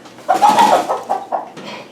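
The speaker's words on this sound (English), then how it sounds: "Okay, outside with the chicken." A chicken being carried outside clucks loudly and nearby, one long agitated squawk followed by a few shorter clucks, with no talk over it.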